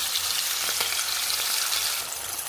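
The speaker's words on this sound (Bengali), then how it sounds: "পেঁয়াজটা ভেজে দিচ্ছি" Sliced onion sizzles steadily in hot oil left over from frying hilsa fish, a dense, even crackle throughout with no talking.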